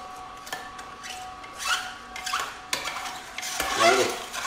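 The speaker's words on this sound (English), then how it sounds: "We'll just stick some wheatgrass in there." Wheatgrass is fed into an Omega juicer, giving scraping, rubbing and crunching sounds in irregular bursts that grow louder toward the end, close up with no speech.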